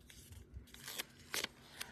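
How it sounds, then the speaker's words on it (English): Scissors snip paper while trimming a planner layout indoors, giving a few short crisp cuts spaced about half a second apart. "I can cut just a little bit off the bottom too"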